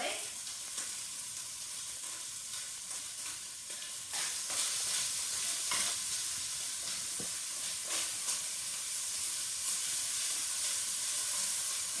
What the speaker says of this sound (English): And continue sautéing until it's cooked.